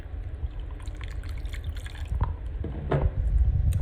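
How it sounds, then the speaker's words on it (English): Water is poured from a container onto an instant-ice crystal, splashing and dripping close by, growing louder toward the end. "pouring some water on top of it to hopefully make an ice crystal"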